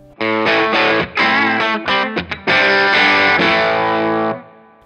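Godin Summit Classic electric guitar on its bridge humbucker, distorted with a touch of chorus, playing a loud riff of ringing chords and choppy stops, alone with no talk.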